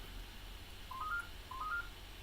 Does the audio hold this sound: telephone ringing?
yes